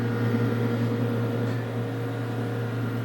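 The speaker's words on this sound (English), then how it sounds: "It has to be an inverter microwave made by Panasonic." A steady, droning hum with a low electrical buzz runs unbroken from a Panasonic inverter microwave oven operating close by at about 630 watts.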